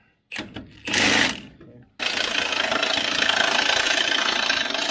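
Short uneven bursts lead into a loud, continuous crackling buzz as a welder fuses a badly stripped bolt and its nut solid, heard up close.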